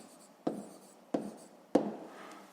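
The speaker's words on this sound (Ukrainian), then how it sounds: "Ну що ж, е, записуємо тоді відповідь." Handwriting on paper while an answer is written down: three short, distinct pen strokes tap and scratch at even intervals in a quiet room.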